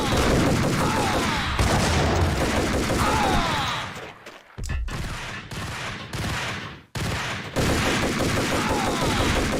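Dense, continuous gunfire in the Max Payne video game, with heavy overlapping bursts that briefly drop out in the middle before resuming at full intensity.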